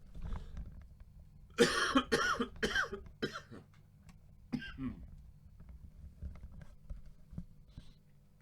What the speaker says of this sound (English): I'm going to have a sequence of these coughs.